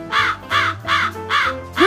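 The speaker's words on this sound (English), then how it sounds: "Hooded crow." A hooded crow caws four times in a steady, evenly spaced series, harsh and loud, close by, with another call starting at the end.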